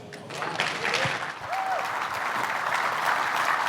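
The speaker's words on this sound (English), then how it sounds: "I want to give a nice big round of applause for Keith Yandell" An audience at a Detroit keynote event applauds the speaker as he takes the stage, a full, continuous round of clapping that swells slightly and holds steady throughout.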